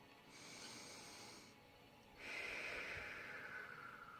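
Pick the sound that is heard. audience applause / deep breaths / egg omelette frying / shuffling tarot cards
deep breaths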